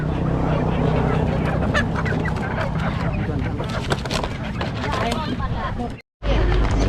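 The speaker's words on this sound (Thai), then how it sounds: "มีขายเป็ดนะ" Ducks for sale at a wild-food market in Ban Pa Lai, Champhone, Laos, honk and quack continuously and loudly up close, their calls tangled with market bustle and voices before a brief cut-out near the end.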